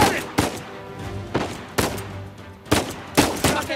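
Gunfire in the video game Uncharted 4, a handful of sharp, loud, evenly spaced shots cracking out over about four seconds, with faint game voices.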